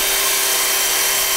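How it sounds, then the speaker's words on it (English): Cheap drill-powered chainsaw attachment bought from Temu running steadily, a loud continuous high-pitched whine with a constant tone and no pauses, heard alone without speech. "It's a drill chainsaw."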